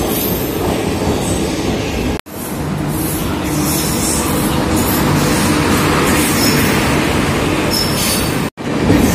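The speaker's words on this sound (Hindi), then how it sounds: "ये आ गई फ्रेंड हमारी ताज एक्सप्रेस" The Taj Express passenger train pulls into an Indian railway station, a loud continuous rumble of wheels and carriages with squealing metallic wheel noise, close by and steady throughout.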